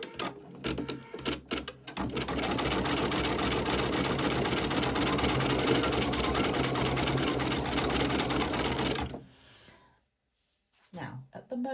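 An embroidery machine stitching a satin-stitch petal of free-standing lace, a loud, fast, steady mechanical rattle running for about seven seconds before stopping abruptly, with a few short bursts before and after.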